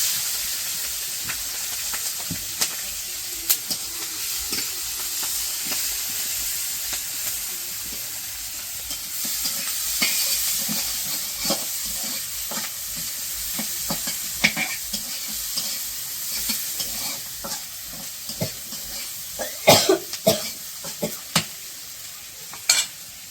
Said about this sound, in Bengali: তো যে পেঁয়াজ কাঁচামরিচ ভাজা হয়ে গেছে